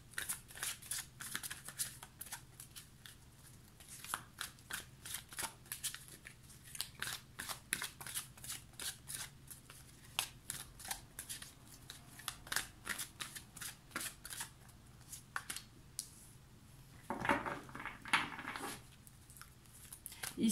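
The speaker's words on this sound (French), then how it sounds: "Je vais tirer 3 cartes pour avoir votre état d'esprit." Tarot cards are shuffled and drawn by hand in quiet close-up, a long run of rapid crisp riffling snaps and soft slides, with a louder flurry of handling near the end.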